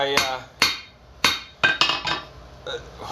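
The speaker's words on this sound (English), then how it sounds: "I'll come and take the edges, make sure they're all hammered down so it's as straight as possible" Hammer blows flatten the edges of a handmade copper bracelet, about seven sharp metallic strikes at an irregular pace with ringing tails, close and clear with no talk.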